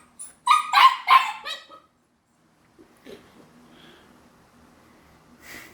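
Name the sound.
dog barking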